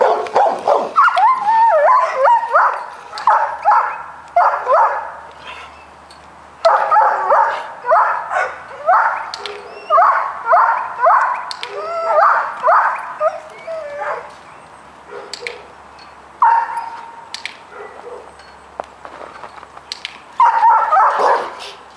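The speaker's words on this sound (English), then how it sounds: "I'm going to see how many times he barks during that 10 treat click and treat training session." A dog barks and yips in quick, loud bursts through a click-and-treat training session, with short pauses between volleys and excited whining, close by and without speech.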